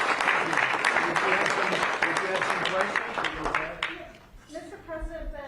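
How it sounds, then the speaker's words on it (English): Audience applause after a presidential address, a dense wash of clapping at moderate level for about four seconds, thinning into scattered claps and murmuring voices at the end. "Yeah, round of applause."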